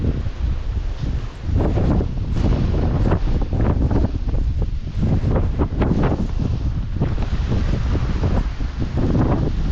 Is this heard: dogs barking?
no